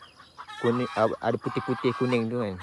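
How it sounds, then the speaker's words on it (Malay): Chickens cluck nearby in a rapid series of short, rhythmic calls while someone speaks in the foreground. "Ni apa asal ayam ni?"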